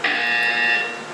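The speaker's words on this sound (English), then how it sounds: "You will hear a buzzer." A test chamber buzzer from the video game Portal 2 gives a single loud, steady electronic tone held for about a second with a bright harmonic ring, then fades slightly, alone with no voices.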